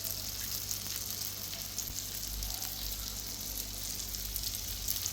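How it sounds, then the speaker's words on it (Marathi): Pieces of Indian salmon (rawas) fish, coated with kokum, frying in hot oil with a steady, dense sizzle and crackle throughout, close and continuous with no talking. "आता बाकीचे फ्राय करूया बघा"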